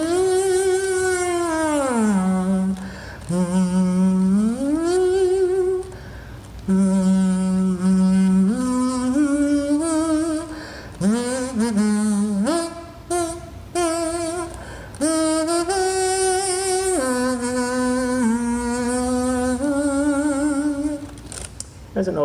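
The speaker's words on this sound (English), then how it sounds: "you're not really going to blow like you would on a harmonica, but you're going to hum a little bit more like you would on a kazoo." Someone hums an old cowboy melody, Home on the Range, through a homemade wax paper cone kazoo. The tone is buzzy and reedy, with sustained and gliding notes played close and alone.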